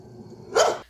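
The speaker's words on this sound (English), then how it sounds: "A neighbor's dog that just won't stop barking at all hours." A neighbor's dog gives one loud, close bark near the end of a short, quiet stretch, sounding alone without any talk.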